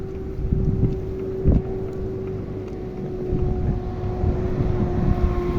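A tractor engine runs with a steady, low rumble and constant droning hum throughout, close by, with no voices.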